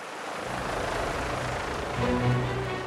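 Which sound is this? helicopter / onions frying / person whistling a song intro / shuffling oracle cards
helicopter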